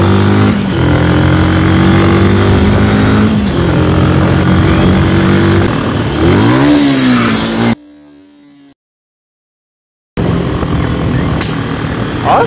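Customized Kansas 150 motorcycle with turbo, engine revving loudly and close, rising and falling in pitch, then cutting to near silence before the engine noise resumes.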